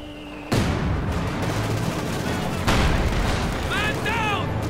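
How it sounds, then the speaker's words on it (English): A mine blast in the Company of Heroes 2 war game: a sudden loud boom at the start, followed by a second heavy explosion amid continuous battle noise and gunfire, with faint chirping effects near the end. "Oh, it hits a mine."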